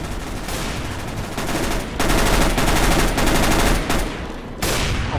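A PP-Bizon submachine gun in CS:GO fires in rapid sustained bursts with brief gaps between them, loud and close throughout.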